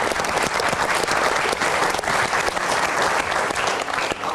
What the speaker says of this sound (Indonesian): Kasih tepuk tangan dulu dong biar semangat menyelesaikannya